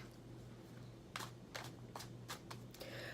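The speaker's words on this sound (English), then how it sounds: "Shuffling the deck." Several quick, crisp riffling bursts of tarot cards being shuffled, spaced about half a second apart over a low steady hum, fairly quiet.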